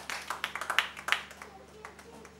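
Congregation at a thanksgiving church service in Kinshasa claps in acclamation, a quick run of scattered hand claps that thins out and fades, with voices murmuring underneath.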